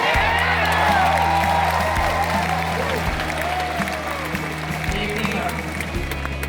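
A tennis crowd in Toronto cheering on Eala fills a stadium with loud, sustained applause, whoops and excited shouting, the clapping rolling continuously throughout.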